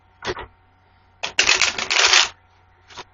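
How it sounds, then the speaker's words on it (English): A deck of cards for a tarot-style reading is handled close up: two brief riffles, then a longer, dense flurry of shuffling lasting nearly a second, ending with a final short riffle in a quiet room. "So I'm going to do the shuffle one time, Zen."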